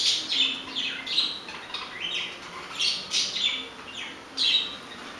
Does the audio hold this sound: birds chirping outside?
yes